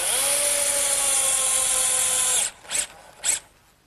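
A power drill drives a 2-inch galvanized bugle head screw into wooden sandbox legs in one loud continuous whir that stops abruptly, followed by two brief short bursts.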